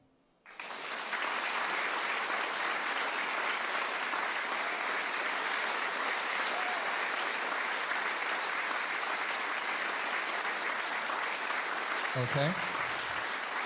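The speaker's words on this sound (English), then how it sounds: "And now applaud." A studio audience at a WoodSongs Old Time Radio Hour livestream bursts into sustained, dense applause after a quiet moment, clapping evenly for over ten seconds before stopping abruptly, when a voice speaks briefly.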